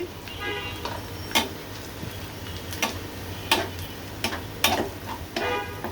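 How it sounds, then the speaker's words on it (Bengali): Onions fry lightly in a pan while a spatula stirs them, a soft steady sizzle broken by intermittent sharp scraping clicks, close and moderately loud. "এভাবে নেড়ে চেড়ে বেরেস্তা করে নিচ্ছি।"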